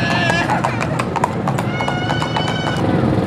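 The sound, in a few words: horse hooves clip-clopping while being ridden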